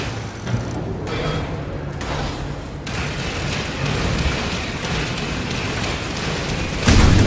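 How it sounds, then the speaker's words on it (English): Nuclear warhead explosion in the mobile strategy game C&C Rivals, a sustained rumbling blast with mechanical clatter that holds steady, then a heavier low boom bursts in at the very end. "Nuclear warhead launched."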